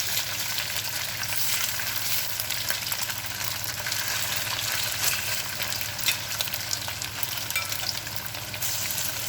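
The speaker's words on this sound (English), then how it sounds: "at first we're just going to lay our beef in there all at once and allow it to just sit there for at least 30, 40 seconds before moving it." Beef strips sear in a hot pan for a beef and onions in oyster sauce dish, giving a loud, steady, continuous sizzle and crackle up close.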